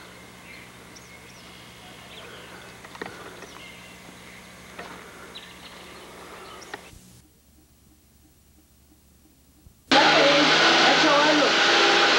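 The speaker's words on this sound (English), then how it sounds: "This is Dad vacuuming the floor." A household vacuum cleaner run over a floor starts up abruptly after a quiet stretch, roaring loud and steady close by, preceded by faint background hum and room noise.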